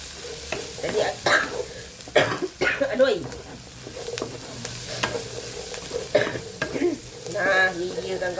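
Spiced horse gram is stirred in a hot pan with sizzling and repeated spatula scrapes, under people chatting nearby.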